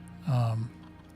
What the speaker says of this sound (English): Oh, it's because that beeped.